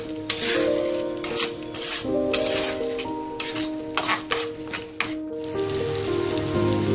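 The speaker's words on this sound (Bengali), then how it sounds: "এবার এটাকে ভালোভাবে ফ্রাই করে নেব।" Spice paste for prawn malai curry fries in hot oil, a steady close crackling sizzle with intermittent clinks of a spatula against the pan, no voices.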